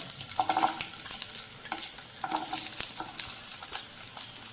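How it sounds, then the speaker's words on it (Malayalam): Pieces dropped into hot coconut oil for a roasted Kerala-style chammanthi spit and sizzle close up, with a busy crackle and scattered sharp pops and stirring clicks throughout, no talking. "വെളിച്ചെണ്ണ ചൂടായി വന്നിട്ടുണ്ട് അപ്പോൾ നമ്മളിതിലേക്ക് നമ്മൾ റെഡിയാക്കി വെച്ചിട്ടുള്ള പീസുകൾ ചേർത്ത് കൊടുക്കാണ്"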